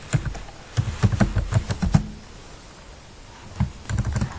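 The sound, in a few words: typing on a computer keyboard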